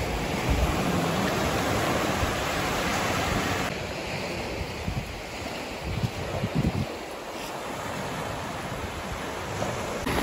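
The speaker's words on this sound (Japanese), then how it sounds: "波の音もいいし、やっぱり海いいなって。" Ocean waves wash onto the rocky shore of Ayoro Beach in Hokkaido, a steady broadband surf roar with wind buffeting the microphone throughout, no voices.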